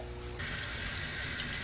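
Tap water runs in a steady, soft trickle into a blue jelly shrimp tank during a reset, a continuous watery hiss that starts abruptly and stays even, close by and alone with no talking.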